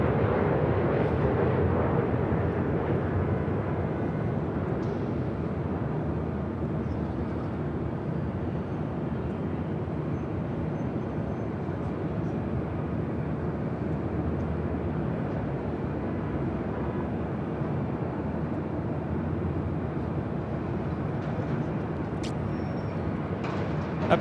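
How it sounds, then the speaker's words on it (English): A seven-year-old Delta Connection Embraer E175 regional jet arrives at LAX from Reno, giving a long, steady broadband jet roar that holds at an even loudness throughout. "this flight coming in from Reno, Delta Connection 4099"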